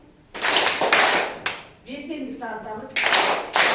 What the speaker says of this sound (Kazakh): бір шапалақ.